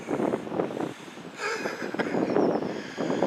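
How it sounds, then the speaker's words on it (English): Breezy outdoor wind gusts rumble against the microphone in uneven bursts near a church, with a steady noisy rush and no voices. "A bit breezy as well, likely."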